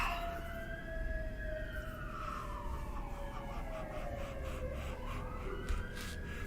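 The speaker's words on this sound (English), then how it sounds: "Cue siren, of course." A wailing siren rises and falls in long sweeping tones, steady and moderately distant, with a low traffic rumble beneath.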